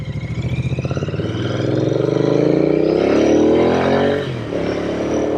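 A Royal Enfield Continental GT 650 motorcycle rides along a road, its twin engine pulsing loudly as it accelerates through a rising rev, then briefly drops off before settling back to a steady drone.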